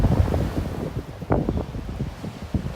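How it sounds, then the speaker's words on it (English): Intense gusting wind on a high mountain trail buffets the microphone in heavy, irregular low rumbling bursts, loud and close, with no voices. "I just wanted to try to capture some of this intense wind that's gusting through here."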